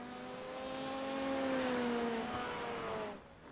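A Ford rallycross race car, number 25, drives past in practice, its engine note droning loud and then sliding downward in pitch as it passes and fades away.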